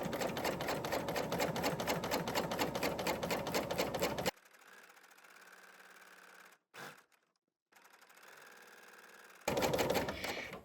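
A serger runs steadily, stitching fabric around a wire edge ribbon with turquoise thread, as a loud, dense mechanical whir. It stops abruptly, leaving quieter handling noise with a brief gap, then the whirring stitching resumes near the end.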